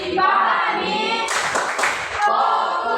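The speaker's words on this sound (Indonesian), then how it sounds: "Tepuk fokus." Classroom of children doing a rhythmic focus clap routine, a burst of quick, loud clapping rising mid-clip amid ongoing chanting voices.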